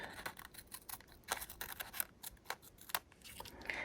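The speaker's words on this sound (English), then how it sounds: "trim off my ends of my tape" Scissors snip repeatedly through the ends of homemade washi tape, a quick irregular series of sharp close cuts with short pauses between them and no talking.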